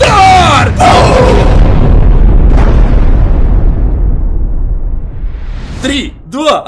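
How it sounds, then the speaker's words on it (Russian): An added boom sound effect, a big explosion roar that starts loud and decays over several seconds, followed by a person talking and voice-like sounds at the end. "Монтажер, можно эффект взрыва?"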